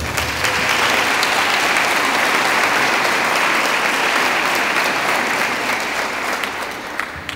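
A conference audience gives sustained, dense applause that stays loud and even before thinning slightly near the end.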